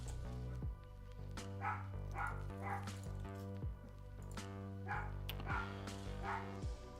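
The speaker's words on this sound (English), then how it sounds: "My dog's going off again." A dog barks repeatedly from another room during a home coding livestream, the muffled barks coming in short bursts over steady tonal background music.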